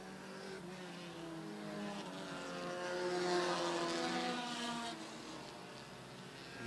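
Race cars roaring around the oval at Airborne Speedway in Plattsburgh, NY, a steady, loud engine drone that swells mid-clip as cars pass close, then eases back, with no voices.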